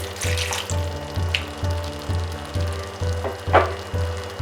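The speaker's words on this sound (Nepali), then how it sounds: "र मैले यसमा राखेँ 2 चम्चा जति पानी।" A medium potato with a little salt sizzles in a hot pan after about two spoons of water are added, giving a continuous close frying hiss with occasional bursts of spatter and scraping.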